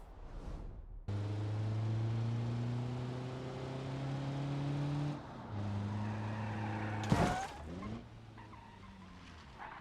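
Simulated Volkswagen Passat mod crash test in BeamNG Drive: a steady droning engine tone holds, dips, then a sharp loud impact bang near the end with scraping and skidding after.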